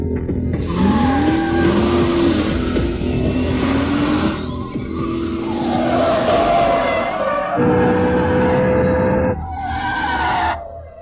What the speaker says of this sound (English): This is skidding.